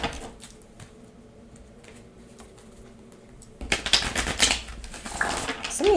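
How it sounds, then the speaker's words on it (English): Tarot cards are shuffled, first as faint soft riffling, then a louder burst of rapid flapping and clacking card noise near the end, close to the listener. "Shuffle this just once or twice here."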